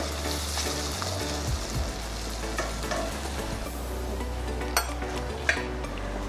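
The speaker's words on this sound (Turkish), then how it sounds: "Biraz bunları kavuruyoruz." Raisins sautéing in a pan for rice pilaf sizzle steadily and close, with stirring scrapes and a couple of light utensil knocks near the end.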